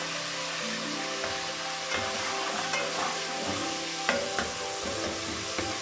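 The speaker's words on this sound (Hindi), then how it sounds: "अब हम इसमें टमाटर डालेंगे।" Tomatoes hit hot oil with frying ginger and garlic for a stuffed aloo pakora curry, giving a steady close sizzle with occasional stirring scrapes and small bursts, and no talk.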